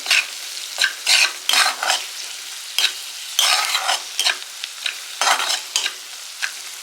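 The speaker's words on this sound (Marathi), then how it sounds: "तर मिश्रण पुन्हा आपण एक चांगलं एकजीव करून घ्यायचंय, चांगलं परतून घ्यायचंय" Stuffed brinjal masala mixture being stirred and sautéed in a pan, loud, close, repeated scraping strokes of a spatula over a steady sizzle, in uneven bursts with no voices.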